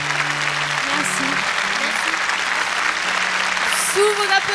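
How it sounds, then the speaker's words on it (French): A concert audience at a singing show applauds, the clapping a dense, moderately loud patter that continues under someone speaking over it. "Sous vos applaudissements"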